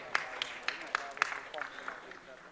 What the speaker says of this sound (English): Huge round of applause for her.